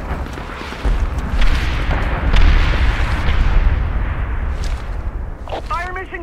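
An artillery round fires in the Medal of Honor video game, sending out a heavy booming blast with a long rumbling tail. A voice sounds briefly near the end.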